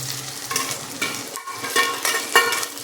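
Onions, curry leaves and dried red chillies sautéing in a pan, a continuous sizzle broken by regular scraping strokes of a spoon stirring them about.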